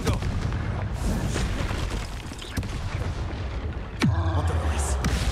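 Confringo fire spell blasts in Hogwarts Legacy, a dense, continuous roar of booming explosions and combat effects with a heavy low rumble, loud and close, one sharp blast near the end.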